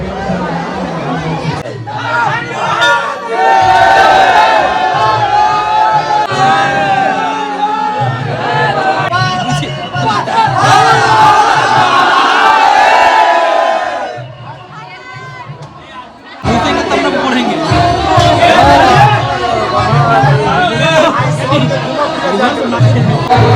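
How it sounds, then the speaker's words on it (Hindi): Dense crowd at the Uchaith Bhagwati temple, a constant loud chatter of many voices with a brief quieter gap partway through, close and enveloping throughout. "अभी तक पूरा भीड़ ही भीड़ है।"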